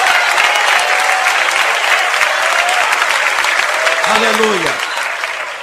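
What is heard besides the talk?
church congregation applauding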